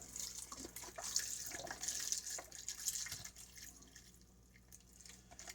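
Tap water runs from a kitchen faucet into a pot of meatball stew, a steady soft splashing and trickling stream that gradually thins out, close and quiet with no talking.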